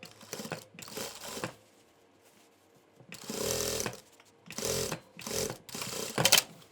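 A sewing machine stitches the edges of a cloth shopping bag made from one rectangle of fabric, running in several separate bursts of steady whirring with short quiet pauses between them.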